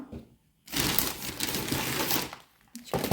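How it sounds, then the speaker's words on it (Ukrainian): A gift bag is rustled and crinkled up close in one long, loud burst lasting a couple of seconds, then a short follow-up crackle after a brief pause. "пошорожу тим пакетом"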